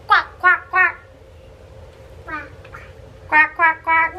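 A small child imitates a duck with three quick quacks, a pause, one more call, then three more, close and clear over a quiet room, with an adult voice prompting in between.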